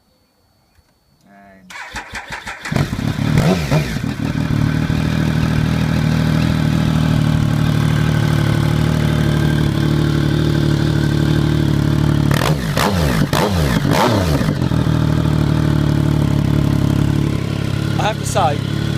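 A Triumph GT 1050 SE motorcycle engine cranks and catches after a quiet moment, then settles into a loud, steady idle with brief blips of throttle; a voice speaks briefly at the start.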